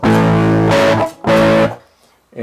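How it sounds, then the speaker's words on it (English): Distorted electric guitar chords, played through a Line 6 Helix, strike twice, each held about a second, then cut off, followed by a brief third hit. "we've got that distortion going on there"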